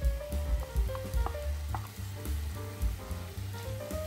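Pre-cooked chickpeas go into a pan of sautéed vegetables, with steady loud sizzling and frying plus scattered scraping and stirring clicks throughout, no talking.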